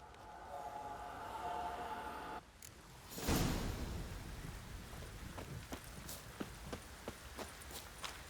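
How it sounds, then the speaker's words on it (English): Steady, hissing heavy rain in the video game The Witcher 3: Wild Hunt, with a sudden low rumbling burst partway through, followed by scattered drips and taps. "This downpour's a bastard, it is."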